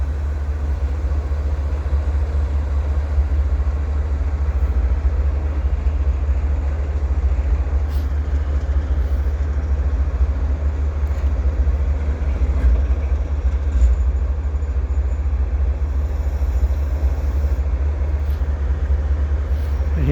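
Slow CP double-stack freight train passing in winter, a steady low rumble and wheel noise holding at an even level throughout, with no voices.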